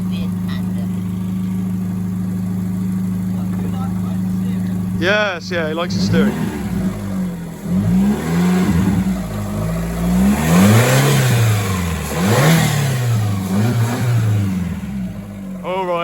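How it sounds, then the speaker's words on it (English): A Fiat Panda 100HP with a 16-valve engine idles steadily, then is revved repeatedly in rising and falling sweeps, close and loud, while people talk over it. "So that's the sound of the Panda 100 HP."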